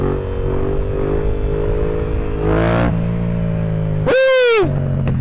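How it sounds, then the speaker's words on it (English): A Yamaha FZ-07 motorcycle revving hard for a wheelie, its engine note climbing in two loud rising bursts over a steady running drone. "I want to go this way so I can do a wheelie"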